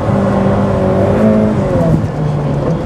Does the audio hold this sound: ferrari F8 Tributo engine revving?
yes